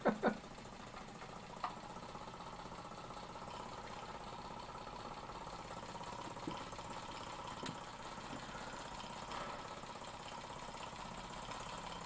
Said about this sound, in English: It always gives me a lot of pleasure running this little engine.